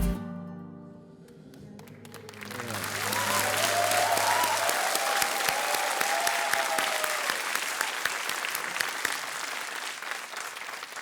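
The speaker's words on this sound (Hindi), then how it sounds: "बेसाख्ता तालियां बज रही आपके लिए" Applause swells after a brief quiet start in a TV game-show studio, a dense steady clapping from a large audience that carries on loudly to the end.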